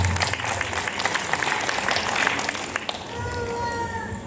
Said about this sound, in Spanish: Luz, los aplausos por favor para la flamante novia.